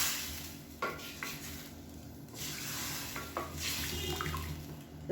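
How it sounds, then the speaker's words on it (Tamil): A spoon scrapes and stirs rasam with added water around a pot in a few irregular strokes, with light sizzling and watery sloshing in between, no talking. "சேர்த்துட்டு நல்லா கலந்து விட்டுக்கலாம்."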